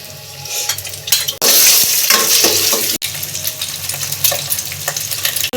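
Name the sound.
ginger garlic paste frying in oil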